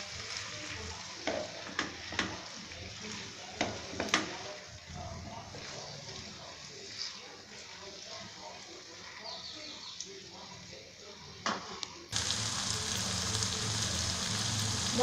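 Green chilli and onion paste stirred in a frying pan, with soft scraping taps and clicks from a spoon over a low sizzle that jumps to a louder, fuller sizzle near the end.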